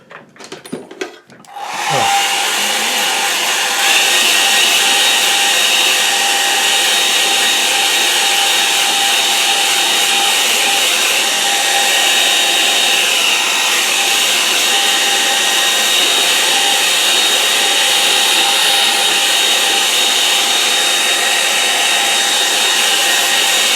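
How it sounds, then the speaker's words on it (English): A hair dryer blows steadily and loudly at close range for over twenty seconds, drying a watercolour tree painting in red and burnt sienna, after a brief clatter as it switches on. "Come on, hairdryer, come back to life."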